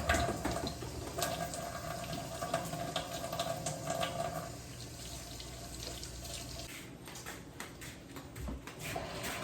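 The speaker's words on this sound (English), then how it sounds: "I'm gonna wash my hands." Water runs steadily from a tap into a sink as hands are washed, a close, continuous splashing hiss that shifts in tone midway.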